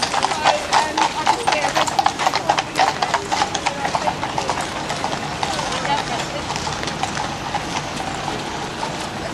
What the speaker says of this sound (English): We've got some police horses.